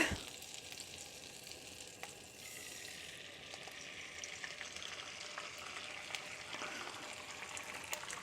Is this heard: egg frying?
yes